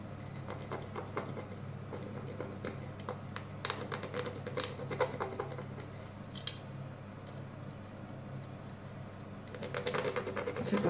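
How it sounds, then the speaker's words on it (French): Glitter on a handmade light-up Christmas bell scrapes under rubbing fingers, a faint, close, dry rasp made of irregular scratchy ticks that grows a little denser near the end. "Ce que vous entendez là, c'est les paillettes qui raclent quand je frotte."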